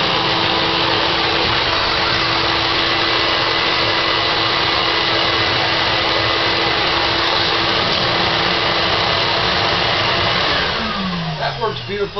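A vacuum cleaner roars steadily at close range, a loud constant whine, then winds down near the end as the motor shuts off.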